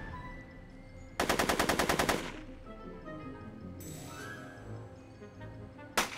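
Rapid burst of gunfire in Back to the Future: The Game, about a dozen sharp shots in quick succession over a second, loud against quiet ambient background, followed later by a single isolated bang.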